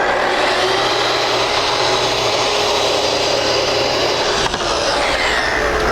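A power saw rips through Versatex PVC trim guided by a cutting jig, a loud, steady high-pitched whine running continuously for several seconds with a brief dip near the end.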